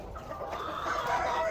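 Australorp hens and roosters cluck together in a poultry pen, a close, continuous murmur of overlapping calls with no talking.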